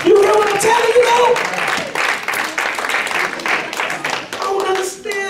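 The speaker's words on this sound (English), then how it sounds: "Somebody get the Lord a hand clap of praise" A church congregation claps in praise, a dense wash of hands sustained throughout and mixed with voices talking and calling out over it.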